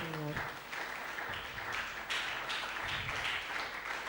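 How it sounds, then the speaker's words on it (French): A church congregation applauding, brief voiced tones at the start giving way to scattered, uneven clapping with a few sharper bursts. "On peut s'asseoir, on applaudit pour le Seigneur."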